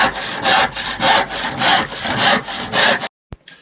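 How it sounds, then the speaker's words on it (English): Handsaw cutting through a wooden scribe panel, about seven rhythmic rasping strokes close up, ending with a brief clatter as the offcut drops away. "so just cut that with a handsaw"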